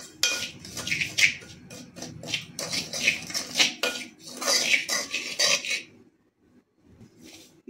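Turmeric, salt and spice masala for gooseberry pickle being mixed in a bowl: busy clattering and scraping of utensils against the dish for about six seconds, then near silence with a faint clink at the end.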